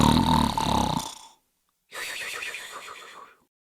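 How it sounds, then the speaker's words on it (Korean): A giant snores loudly in two long, rasping bursts separated by a short silence, close and alone without any talk. "그러더니 이내 다시 코를 골기 시작했다"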